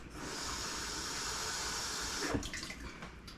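Tap water runs from a kitchen faucet into a cup, a steady close hiss that cuts off near the end with a few drips.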